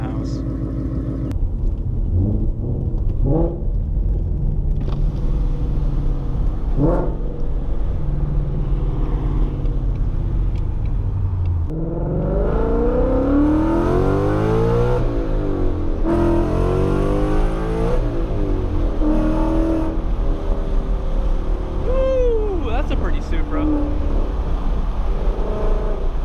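Ford Mustang with an aftermarket exhaust gives a low, steady rumble while cruising at highway speed, heard from inside the cabin as a constant drone under someone talking over it.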